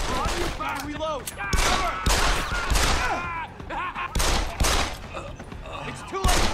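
Rapid gunfire in the video game Deus Ex, repeated sharp shots in quick clusters, loud and close, mixed with shouting voices and electronic game sounds.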